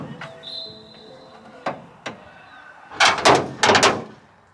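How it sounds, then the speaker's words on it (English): Bonnet of a Mitsubishi Legnum VR4 fitted with hood raisers knocks against the bodywork as it opens, giving a few light taps, then a cluster of sharper clunks and rattles near the end, close up against quiet background. "that is the sound of the bonnet contacting the bodywork every time you open the bonnet"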